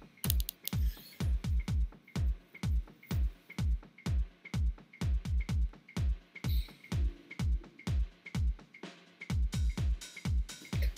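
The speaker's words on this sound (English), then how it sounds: "we've cut out a kick drum from there and we've put a double kick drum in there" A quick electronic kick drum pattern with doubled hits, steady and punchy, repeating throughout with a faint click on top.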